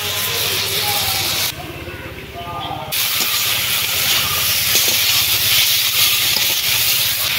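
Slit green chillies sizzling in hot oil for a village-style gumuk and dhundul shoot dish, a loud, close, steady hiss that drops briefly, then surges back and continues.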